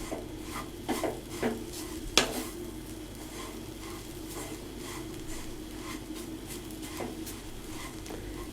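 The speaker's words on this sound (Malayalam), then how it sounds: "ചേർത്തു നന്നായി മിക്സ് ചെയ്യുക." Tender jackfruit thoran stirred in a pan after salt is added: a few scraping and tapping strokes, one sharp clack, then a quiet steady sizzle.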